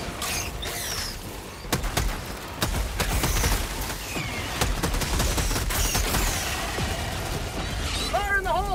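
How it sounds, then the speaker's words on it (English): Sentry turret firing in Helldivers 2: rapid bursts of mechanical gunfire and clattering impacts over several seconds, mixed with battle noise and voices talking. "Calling down a sentry!"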